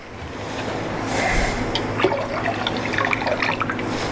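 Water poured into a pan for waxing canvas saddle bags, a steady close splashing pour that swells slightly partway through and continues to the end, with no talking.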